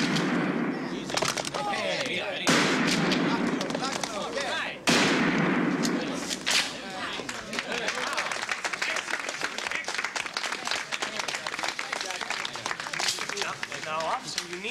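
Gunshots from police officers shooting on a range, a series of sharp bangs, some in quick runs, mixed with clapping-like bursts and close voices talking throughout.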